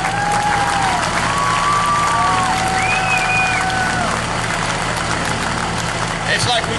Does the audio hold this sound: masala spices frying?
no